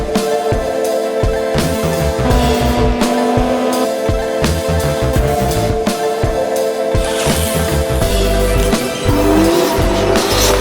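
A loud Ford Mustang's turbocharged front-exit dual exhaust rumbles and burbles steadily, with revving pulses and a deep throaty drone running throughout, close to the microphone.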